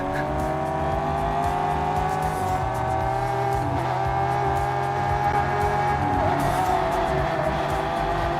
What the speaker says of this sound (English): Let's go Lamborghini Uru.